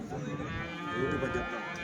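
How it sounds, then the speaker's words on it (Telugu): A cow lows at a weekly cattle market selling HF and Jersey cows, a long, near moo that swells and drags on through the whole stretch against faint background market noise. "ఒక దూడ ఆవు అయితే ఉందండి"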